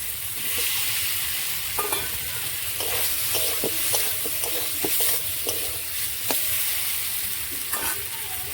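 Fried potatoes stirred into sizzling cooked-down masala in a pan, loud continuous frying hiss broken by repeated spatula scrapes and clacks in an irregular rhythm, with no talking.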